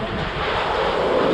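Strong typhoon wind in Naga, Bicol, roaring as a loud, continuous broadband rush that fills the short moment without pause, no voices present.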